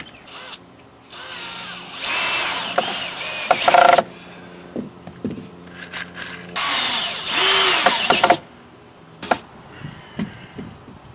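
A power drill drives a long wood screw into a corner joint with a metal reinforcing bracket on a wooden rain shelter frame, with two loud whirring bursts of several seconds each, separated by clicks and handling noises, close by.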